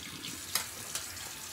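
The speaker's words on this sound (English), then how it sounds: "Wash off this brush." A paintbrush being rinsed in water, giving soft sloshing and a couple of quick splashy swishes, faint and close.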